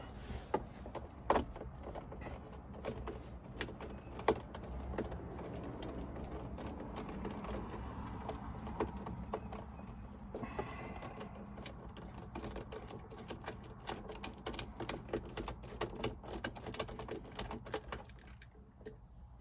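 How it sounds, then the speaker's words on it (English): A bolt comes off with a number 10 socket during a ratchet phone mount install on a Jeep Gladiator, giving quiet rapid ratcheting clicks and small metallic ticks that run throughout at low volume. "I'm going to go ahead and take this bolt off right here."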